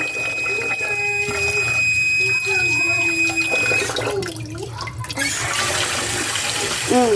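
Water runs and splashes from a tap into a basin, gurgling as rice is swished and rinsed, with faint voices and clinks nearby.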